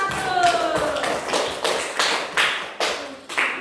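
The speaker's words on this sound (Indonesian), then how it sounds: "Tepuk tangan buat kelompok 1" Classroom group of teacher trainees claps for group 1 in short uneven bursts, a loud, close patter of hands that rises and falls in several waves.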